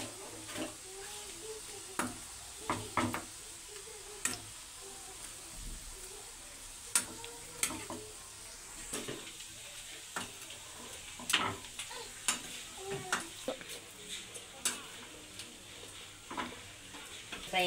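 Chicken pieces frying in a pan with salt, chili powder and turmeric, giving a soft steady sizzle with scattered stirring taps and clicks throughout, fairly quiet with no talking.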